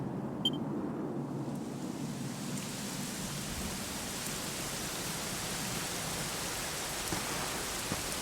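Steady rain in the video game Dragon Quest XI pours down with a dense hiss, a constant downpour with faint low rumbling underneath and no voices.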